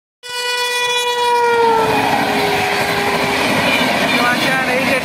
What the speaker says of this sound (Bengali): এই ট্রেনটি ডাইরেক্ট কিন্তু হাওড়া চলে যাচ্ছে